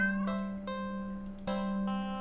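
A black cat in a video game meows several times in short, clear, tonal calls spaced across a steady background hum.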